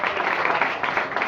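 A church audience clapping together, dense continuous applause heard close and loud for the whole short stretch.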